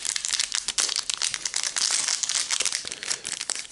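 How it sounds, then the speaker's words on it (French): A Pokémon card booster pack wrapper is torn open, giving a close, loud, continuous crinkling and crackling of foil plastic that runs the whole time with no voices. "Et on va ouvrir le troisième booster."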